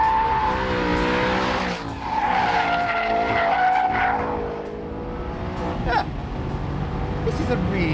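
An Aston Martin sports car races and skids, tires squealing in long high-pitched streaks over a loud engine roar, with a brief lull midway before the noise resumes.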